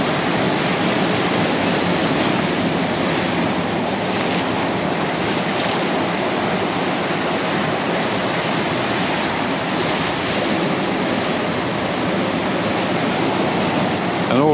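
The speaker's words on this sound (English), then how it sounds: "It's waves though, crashing through." Storm-driven surf around two meters high crashes at Cala Major in Mallorca, a constant roaring wash of breaking waves with wind buffeting the microphone, loud and unbroken for the whole stretch.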